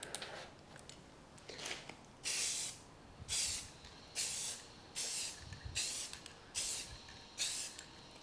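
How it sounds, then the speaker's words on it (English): A spray can hisses in a series of short bursts, about six or seven quick sprays with brief pauses between them, close by. "Make sure you're not going to spray it on anything."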